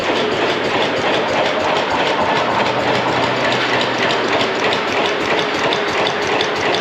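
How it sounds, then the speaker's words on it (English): Fairbanks Morse Z single-cylinder engine, a large stationary engine with a cylinder nearly ten inches across, running with a steady rapid clattering, mechanical rhythm, loud and close throughout. "That's a pretty big single cylinder engine."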